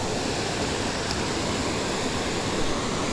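Steady, loud broadband rush of water pouring over a dam in a wet temperate forest in coastal Maine, a continuous roar close by with no pauses and no talking.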